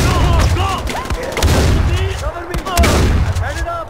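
Rapid gunfire and explosive booms in the video game Far Cry 4, loud and dense bursts with overlapping shots and thuds, with game voices and effects mixed in.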